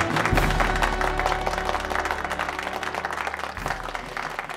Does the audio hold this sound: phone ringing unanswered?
no